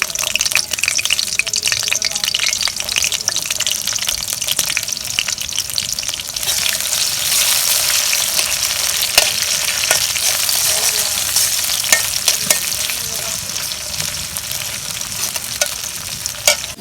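Chopped onion and chili fry in a pan, with a steady, loud sizzle running the whole time, broken by sharp crackles and the scrape of stirring.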